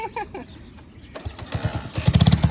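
A motorcycle engine is kicked over and catches, sputtering into a rough, rising idle with loud rapid firing pulses close by, while a voice talks over it.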